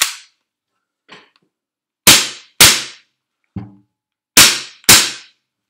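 Sharp, loud cracks of a Tokyo Marui HK45 gas airsoft pistol dry firing without BBs, four main shots in two quick pairs, each with a short hissing tail, plus faint clicks.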